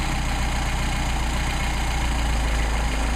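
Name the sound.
Mercedes 190SL engine idle dropping during Solex carburetor adjustment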